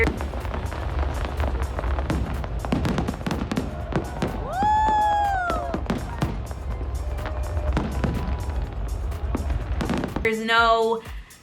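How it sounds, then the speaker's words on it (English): Fireworks bursting over the EDC music festival, a dense run of loud crackling and booming blasts over a roaring crowd and music, with people talking nearby and a bright whistling sweep in the middle. "When people tell you that EDC fireworks are the best there is, hands down, they're just the best that there is."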